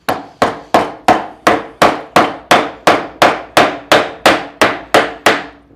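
A 12 mm wood chisel is struck with a hammer to pry up and lift a piece of wood, giving about fourteen sharp, evenly spaced knocks that ring briefly and decay, loud and close with no talking.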